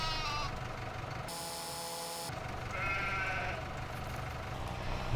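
Sheep in a farming survival roleplay video game bleat, with a few clear bleats standing out over a steady low rumble and a brief mechanical hum in the middle.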